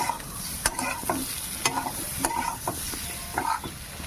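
Bitter gourd stir-frying in a pan for a hilsa fish dish: a constant loud sizzle, broken by sharp repeated scrapes and knocks of a stirring utensil about every half second to second.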